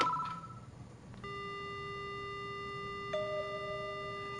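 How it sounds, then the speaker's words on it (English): Steady telephone dial tone from a handset picked up in the horror adventure game Death Mark, a continuous electronic hum that starts after a brief click and holds level, with a small pitch shift near the end and no voices. "The only sound I hear is the dial tone."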